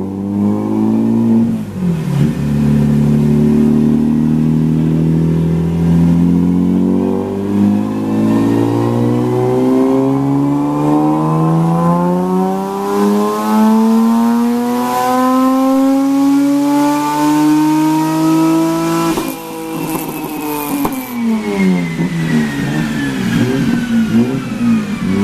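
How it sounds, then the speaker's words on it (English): A Mitsubishi 3000 GT VR4 engine climbs through a long, loud rev on a dyno, pitch rising steadily for nearly twenty seconds before dropping off and picking up again, with no voices. "Mitsubishi 3000 GT VR4."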